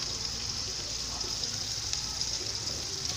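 Onions and kalonji fry in ghee with a soft, continuous sizzle at a steady, moderate level, close by and without talk.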